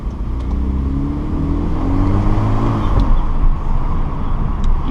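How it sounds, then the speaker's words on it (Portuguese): Car with its mufflers removed revving up, engine drone rising through the gears with a small crackle near the middle, loud and close with no talking. "Ele já vai começar a fazer os pipocos na troca de marcha."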